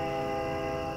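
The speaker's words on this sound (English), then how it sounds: "sorry for the train horn." A train horn sounding steadily for the whole moment, a sustained loud chord-like blast heard from outside a house at some distance.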